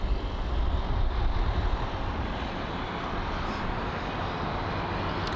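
An aircraft landing on runway 27 right at London Heathrow gives a broad, steady roar of engine and rushing air, loud and continuous with a slight swell early on.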